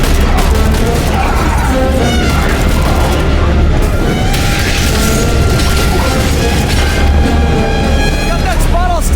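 Sustained, loud barrage of gunfire and booming explosions from The Bureau: XCOM Declassified, a dense continuous battle din with crashes and mechanical clatter, voices occasionally shouting beneath the fighting.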